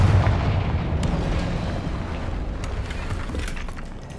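Confringo spell blast in Hogwarts Legacy, a booming explosive burst with a rumbling decay that fades over several seconds, with faint crackles scattered through it.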